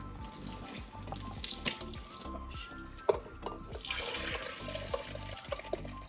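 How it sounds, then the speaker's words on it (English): Hot water pours and drains into a kitchen sink while pupusas are being prepared, a steady rushing splash with a few sharper knocks and spatters, close and continuous for about six seconds. "I'm gonna put it in here in the sink. Drain out some of the water."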